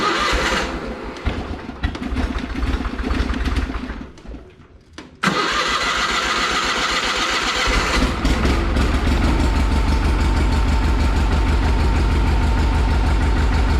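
A Wheelhorse 520 garden tractor engine cranks for a few seconds, goes briefly quiet, then catches and starts, settling into a steady, loud idle close by. Nothing else competes with the engine.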